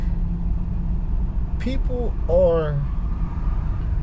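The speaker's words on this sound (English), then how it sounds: "Excuse the noise in the truck." Steady low truck engine rumble fills the cab throughout while someone talks briefly over it.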